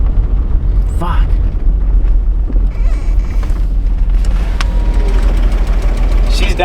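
Beater car engine after being pushed until it blew, idling roughly with a loud, steady rumble and irregular knocking, heard close up outdoors under wind noise.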